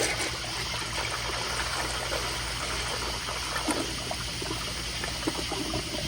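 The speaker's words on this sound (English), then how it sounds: "let me go ahead and give y'all another flush" A kindergarten toilet from 2020 flushes with a steady rush and gurgle of water, loud and close, continuing evenly throughout.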